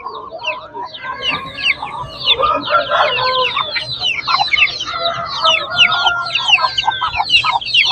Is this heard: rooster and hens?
yes